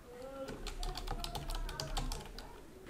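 Typing on a computer keyboard, a quick, close run of crisp key taps in an irregular rhythm, with some faint background sound underneath.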